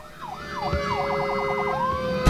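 An ambulance siren from the video game Emergency 4 wails in rising and falling sweeps, then switches to a fast yelp pattern, loud and steady without any talk.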